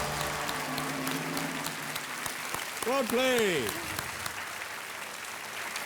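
Studio audience on a televised quiz show applauds steadily and loudly through the whole stretch, with a voice speaking briefly over the clapping.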